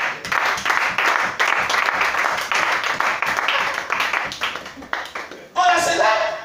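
A congregation applauds steadily through an Easter church service, dense clapping going on for several seconds before it thins out and a voice rises over the end.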